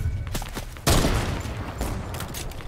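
Gunshots in Fortnite, a quick volley of sharp cracks with one louder close shot near the middle, then scattered fainter shots trailing off.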